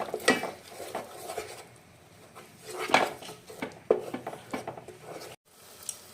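A spoon stirs yogurt into chicken chaap gravy in a pot, giving intermittent scrapes and clinks of utensil against cookware, moderately close, with a short pause near the end.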